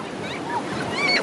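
Ocean surf washes onto a sandy Oregon beach in August, a steady broad rush with wind noise and faint distant voices.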